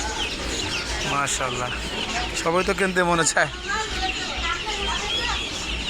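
Chickens cluck and crow in a bird market alongside pigeons and rabbits, several short bursts in the middle of the clip, mixed with people talking nearby.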